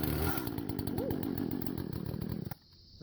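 A Husqvarna 120 38cc chainsaw with a 14-inch bar runs close by at a loud, buzzing high idle, then drops abruptly to a quieter idle near the end.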